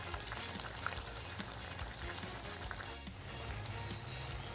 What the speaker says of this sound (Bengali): ভালো করে ফুটুক।